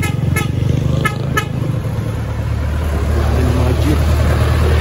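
Street traffic with jeepneys near old Spanish-era heritage houses and the San Antonio de Padua shrine: a steady, loud engine rumble with a few short horn toots early on.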